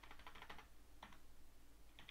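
Fingers type a web address on a computer keyboard, quiet close clicks in a quick burst, then a pause, a short pair of taps and another brief cluster, with no talk.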